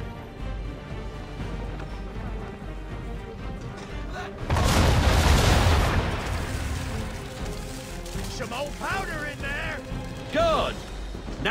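Ship cannons fire in Assassin's Creed III, a loud booming volley partway through that rolls into a long crashing rumble, with spoken lines from the game before and after.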